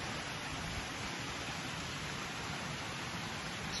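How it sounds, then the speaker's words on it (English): Water splashes steadily from mouth-shaped town fountains in L'Aquila, forming a dense, unbroken rushing wash at moderate distance with no clear individual drips and no voices. "There's fountains everywhere"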